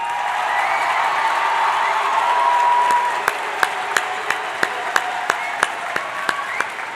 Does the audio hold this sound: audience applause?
yes